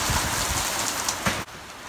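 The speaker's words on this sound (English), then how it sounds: "So today started off real rainy." Steady heavy rain pours down as a dense, continuous hiss with scattered drops tapping nearby, briefly dipping near the end.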